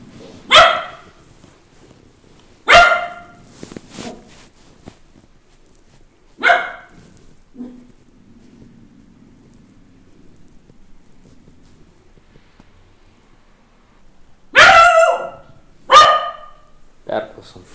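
Dog Bela barking: single loud, sharp barks spaced apart, then a close double bark near the end, with a low murmur of voices between them.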